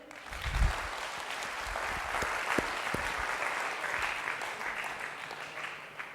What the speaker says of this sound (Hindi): तो उसके लिए तालियां बनती हैं।